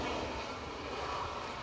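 An Embraer Praetor 600 business jet arriving at Edinburgh Airport gives a steady, broad engine roar that stays fairly even and moderately distant for the whole stretch.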